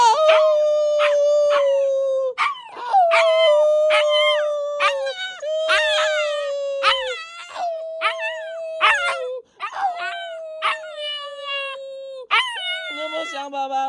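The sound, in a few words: husky puppy howling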